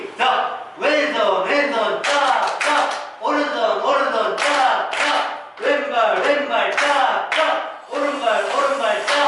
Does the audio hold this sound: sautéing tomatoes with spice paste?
no